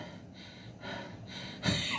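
A voice imitates breathing with a few soft rhythmic breaths, quiet and close, ending in a sharper audible gasp.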